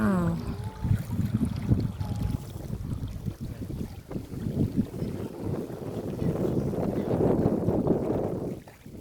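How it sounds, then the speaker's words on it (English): Wind gusts steadily outdoors on a family day out in nature, a continuous broadband rush with a boat-like low rumble throughout, with brief faint voices near the start. "Nice wind."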